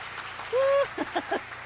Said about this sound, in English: the crowd's going wild, apparently